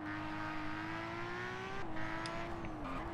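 Car engine revving in a PSP racing game, a steady high engine drone that holds pitch for most of the stretch, then shifts and dips slightly near the end, loud and continuous with no talking.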